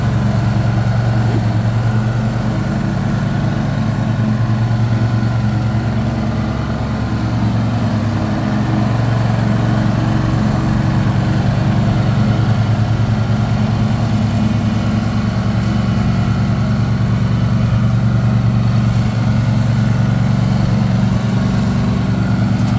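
A Husqvarna 414 TC ride-on lawn mower with a 2-cylinder 14 hp engine drones loudly and steadily while cutting a lawn, its low engine hum constant and close for over twenty seconds.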